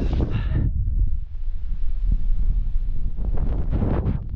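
Strong, blustery wind gusts roaring into the microphone during an uphill run on the road from Marseille to Cassis, a steady loud buffeting rumble that swells again toward the end.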